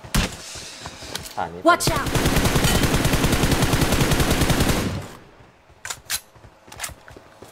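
Sustained rapid automatic gunfire bursts out loud and dense from behind in a video game, preceded by a few scattered shots, with a brief spoken word early and short sharp clicks afterward.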